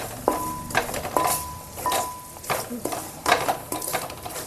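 Onions with ginger garlic paste and salt stirred in a pan for a large fish curry, giving repeated scraping stirs over a soft sizzle, with a faint steady tone and light pan clatter.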